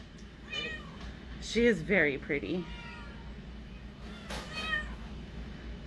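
At an adoption center, a kitten near the front meows several times in short, clear cries. Someone talks softly between the meows.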